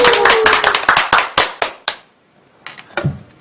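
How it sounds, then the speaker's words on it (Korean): A small audience at a community youth lecture on salvation claps in a quick, loose flurry of close, distinct hand claps that thins out and stops, followed by a few scattered final claps. "우리 박수로 한번 시작해 보겠습니다"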